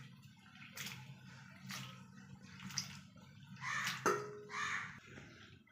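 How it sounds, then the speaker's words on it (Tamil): Broad beans and potatoes are washed by hand in water for a mutton curry, giving a few soft sloshing splashes and drips in short bursts, close and fairly quiet. "அவரைக்காயை வந்து நல்லா கழுவி எடுத்துக்கலாங்க."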